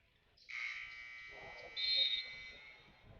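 An electric game-end buzzer sounds at a youth basketball tournament game, a sustained, fairly loud tone lasting about two and a half seconds that swells partway through, with crowd noise and talking faintly underneath.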